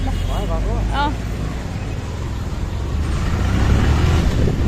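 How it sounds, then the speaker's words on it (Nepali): A motorbike engine runs steadily with road rumble, rising a little toward the end, while a voice speaks briefly at the start. "अब कस्तो नराम्रो बाइक रहेछ"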